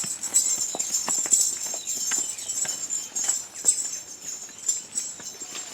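Horse hooves clip-clop in a steady, fairly close rhythm over a faint hiss of background noise, with no talking.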